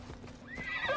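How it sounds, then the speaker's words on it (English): A horse in Assassin's Creed Odyssey whinnies and trots near after being called, one short call rising over steady hoof and background game sound. "Alright, let me call horse."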